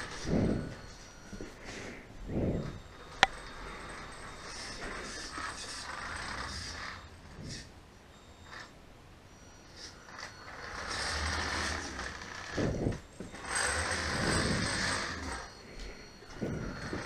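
A radio-controlled Mercedes-Benz Actros SLT 8x4 truck chassis with twin four-wheel steering turns to full lock, giving faint, intermittent mechanical whirring and creaking of the steering servos and linkage, close by and quiet with brief pauses and one sharp click.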